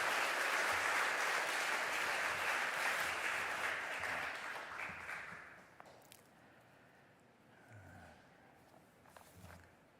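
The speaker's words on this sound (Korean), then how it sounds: "우리 뜨거운 박수 한 번 더 주십시오" A church congregation applauds loudly and steadily during a Sunday service, then the clapping fades out into quieter room noise with a few scattered sounds.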